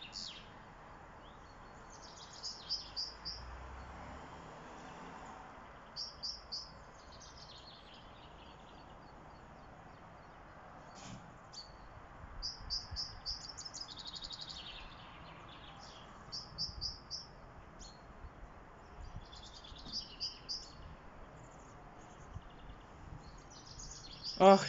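A small blackbird calls outdoors in short bursts of high chirps and piping notes that recur every few seconds, moderately near, over a faint steady background with no talk.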